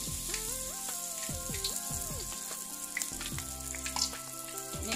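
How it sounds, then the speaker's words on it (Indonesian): Chicken pieces fry in hot oil, a steady close sizzle and crackle with scattered spitting pops, while a melodic tone plays softly underneath. "Kemudian saya goreng ayamnya."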